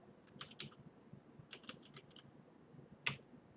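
Very faint, quiet keystrokes on a computer keyboard arrive in a few short bursts of clicks, with one slightly sharper tap near the end and no speech.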